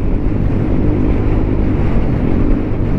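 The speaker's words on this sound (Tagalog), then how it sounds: "sobrang lakas ng hangin" Strong wind roars across the microphone of a Yamaha Aerox V2 155 scooter being ridden, in a dense, unbroken buffeting rush, loud and close throughout, with no voices.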